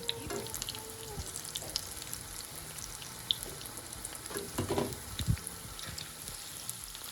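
Jamaican cod fritters fry in hot oil with a soft, steady sizzle and scattered light crackles and pops, faint and unbroken throughout.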